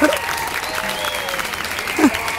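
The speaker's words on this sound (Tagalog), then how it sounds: "Palakpak naman dyan kay Kabiyaheng Roger" A small group at an informal Filipino gathering breaks into brief applause, heard together with a talking, cheerful voice throughout the short moment.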